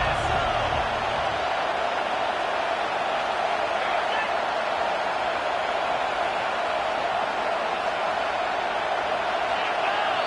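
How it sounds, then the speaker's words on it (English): A football stadium crowd roars during a 4th-down play, a loud, steady wall of cheering and noise that holds without a break from start to finish. "with this place rocking, the crowd forces a false start"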